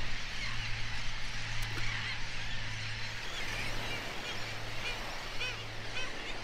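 Dense seabird colony on barrier islands in breeding season, with brown pelicans, black skimmers, royal and sandwich terns: a steady, continuous wash of many overlapping calls with a low hum beneath, no single bird standing out.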